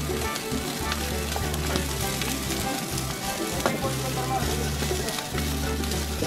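Fried rice with salted fish sizzles steadily in a pan on a camping stove at a lakeside camp, a continuous close frying hiss with scraping stir strokes throughout.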